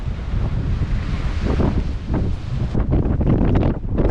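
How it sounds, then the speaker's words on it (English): Strong seaside wind buffets the microphone outdoors beside a parked camper van, a steady roaring rumble with gusting surges and faint surf beneath, no voices. "So it's a bit windy."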